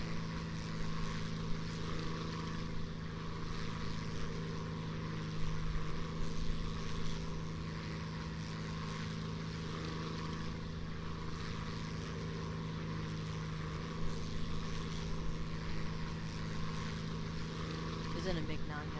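A jet fighter engine in the War Thunder flight game, an early MiG jet, drones steadily and evenly throughout at moderate loudness, with people talking over it.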